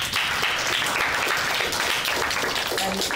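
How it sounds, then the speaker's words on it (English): An audience applauds at a student Toastmasters evaluation session, a dense, steady wash of clapping filling the room throughout. "Please give him a big round of applause."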